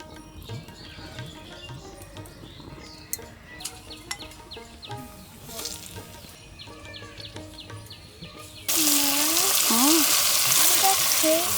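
Cooking in a new pot in a village kitchen for mustard hilsa, with stirring and scraping over a steady background, then a loud, bright sizzle starting near the end as food hits hot oil; birds chirp faintly in the distance.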